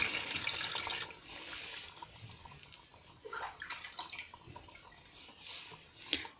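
Water poured from a glass into a pot of aloo gosht curry, a short bright splashing pour at the start, then softer stirring clinks and dripping noises at moderate volume.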